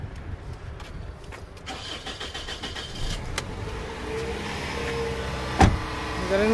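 A 2001 Toyota RAV4 with an 1800 cc engine and a new battery cranks with a few short clicks, then catches and settles into a steady, close idle, with a sharp knock partway through.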